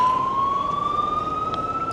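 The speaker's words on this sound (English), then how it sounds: "There's an ambulance behind us" An ambulance siren wails behind a motorcycle rider in traffic on a snowy road, a steady rising tone sweeping over the low engine and road rumble throughout.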